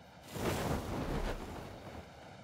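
Waterfall rushing in the video game ARK: Survival Evolved, a broad, steady roar that swells briefly and then eases, heard alone without talk.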